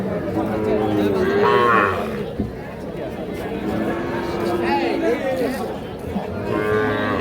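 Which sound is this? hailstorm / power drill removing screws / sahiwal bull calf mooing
sahiwal bull calf mooing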